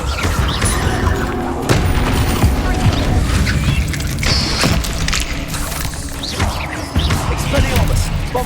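A Bombarda spell going off in Hogwarts Legacy combat: dense, loud crashing and clanking impacts with booming bursts, layered with battle noise and voices throughout.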